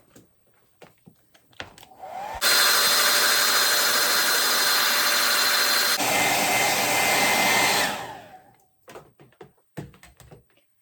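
Hair dryer drying freshly painted glass on a breadbox: a loud, steady whoosh that switches on abruptly, shifts speed midway, and cuts off after about five seconds, framed by light handling clatter before and after.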